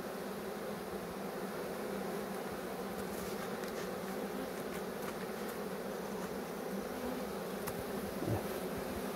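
Honeybees buzz steadily around the entrance of a hive in an apiary, a dense continuous drone of many insects nearby with no talking.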